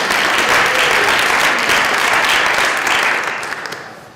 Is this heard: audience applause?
yes